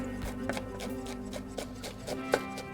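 A knife chops herbs on a cutting board while a ribeye steak is prepared, with about eight quick, steady strikes over a low kitchen hum.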